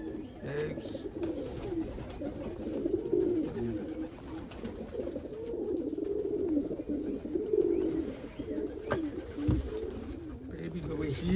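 Pigeons coo in soft rolling phrases near nests holding eggs and young, repeating at close range through a steady background hum.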